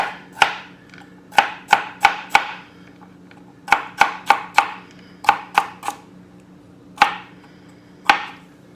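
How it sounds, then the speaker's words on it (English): A knife dices an English cucumber on a cutting board, sharp close chops landing singly and in quick clusters of three or four, with brief pauses between runs and no talking. "And then you could just dice it up the same way."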